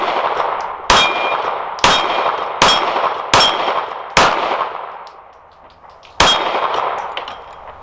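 A .380 pistol firing Speer Gold Dot defensive rounds at steel plates: six loud, sharp shots at an uneven pace, each followed by a ringing metallic clang that rings out between shots.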